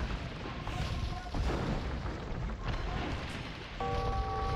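Cannon galleons fire in a real-time strategy naval battle, with rumbling booms and crackling impacts over a dense, rain-like wash of battle noise and tonal game effects.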